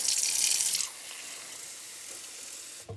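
Water pours into a glass holding a thick, honey-like elixir, a brief bright splashing rush for under a second that falls to a quiet, steady hiss with no talking.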